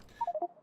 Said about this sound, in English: Turns out it's a phone call.